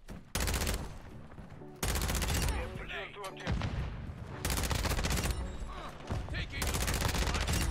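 An ISO 45 gun fires in a video game in several loud, rapid full-auto bursts separated by brief pauses, with the shots crackling sharply at close range.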